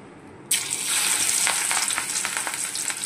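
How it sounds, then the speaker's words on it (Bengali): Chicken pakoras hit hot reused oil with a sudden loud sizzle that keeps bubbling and crackling steadily close by. "সেই তেলটা দিয়েই আজকে আমি আবারও কিন্তু চিকেন পকোড়া বানাচ্ছি"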